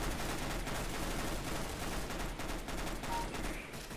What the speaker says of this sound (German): ey, die scheiß Bison, ich hasse.